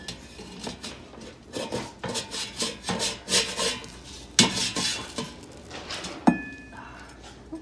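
A black bean burger being flipped in a pan: scraping and tapping of a spatula against cookware, a series of rhythmic scrapes and knocks with a few sharper clinks, close and fairly loud.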